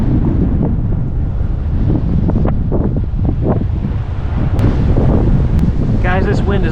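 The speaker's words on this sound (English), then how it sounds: "Guys, this wind is awful" Strong wind gusts buffet the microphone out on the water during a fishing outing, a heavy low roar with thumping bursts, and a voice speaks briefly toward the end.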